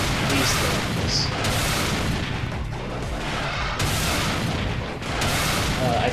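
Enemy gunfire and booming blasts from the run-and-gun game Hard Corps: Uprising fill the space in a dense, continuous barrage, loud and steady, with bursts swelling every second or two over a constant layer of game noise.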